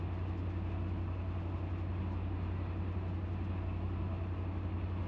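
A train in the railroad simulator Run 8 makes a continuous low rumbling, dragging drone, steady and unbroken, with no voices over it.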